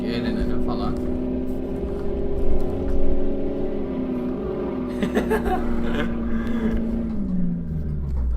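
Car engine in City Car Driving strained hard in fourth gear near 160 km/h, a steady droning hum under someone talking, pitch sagging slightly toward the end.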